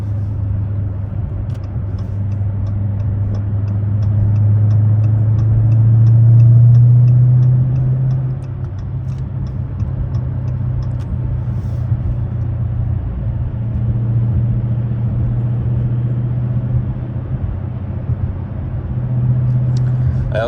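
Stock Dodge Challenger Scat Pack engine while driving at night, a steady low rumble that swells briefly then settles into a constant cruising hum, with a faint ticking alongside.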